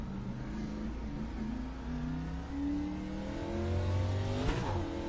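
ARCA Midwest stock car engine in iRacing, revving and accelerating out of a corner on cold tires, rising harmonic engine tones climbing steadily and loud throughout with no voices.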